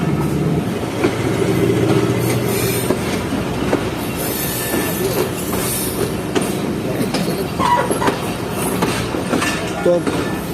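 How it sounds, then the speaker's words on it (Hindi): The Jaffer Express pulls out of Jhelum railway station with a continuous rumble, wheel squeal and clicking over the rail joints, close and loud, with faint voices in the background. "ट्रेन डिपार्ट कर रही है जहलम रेलवे स्टेशन से"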